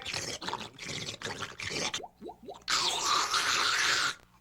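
A malfunctioning washing machine makes a jumble of irregular sloshing, gurgling and plopping noises. Short bursts are broken by gaps and trailing drips, then a louder continuous churning rush comes near the end.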